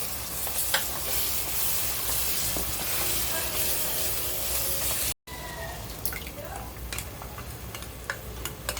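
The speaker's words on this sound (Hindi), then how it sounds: "मसाला अच्छे से भून के हो गया, अभी टमाटर डाल के भूनेंगे" Fried masala and freshly added tomatoes cook in a pan for chicken degi biryani, giving a loud, close, hissing sizzle with scattered stirring clicks. A brief cut breaks it midway before the quieter frying resumes, with no talking.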